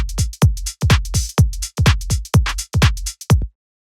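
House music drum pattern of punchy electronic kicks and snappy hits, with extra triplet kick placements every two beats breaking the four-on-the-floor pulse; about a dozen evenly driven hits, loud and close, then silence at the end.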